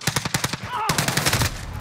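Rapid video game machine-gun fire crackles in a steady burst of close, loud shots, broken by a brief electronic whine midway before the rattling volley resumes.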